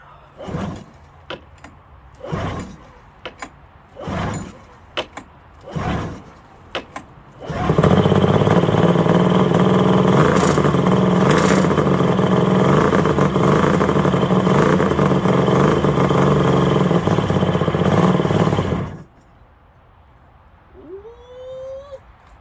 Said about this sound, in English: tried firing it up there. It kind of started